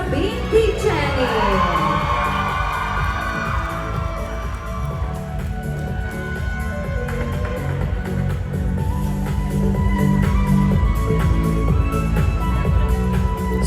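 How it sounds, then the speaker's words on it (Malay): An audience at a regional Kaamatan Unduk Ngadau pageant cheers, whoops and shouts for a finalist, with excited voices and crowd noise over a steady low hum from the venue. "Kita berikan tepukan kepada peserta ini, hadirin sekalian"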